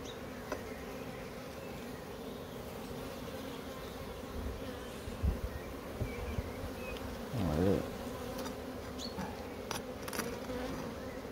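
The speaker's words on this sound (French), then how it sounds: "J'ai une putain d'abeille dans ma chaussure." Bees buzz steadily around a beehive outdoors, a dense continuous drone with occasional louder passes of single bees flying close.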